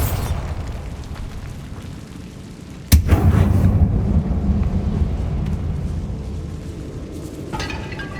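Bombarda explosion spell in the game Hogwarts Legacy: a quiet rumbling ambience broken by a single sharp, loud blast that decays into a long booming rumble, followed later by faint debris clatter.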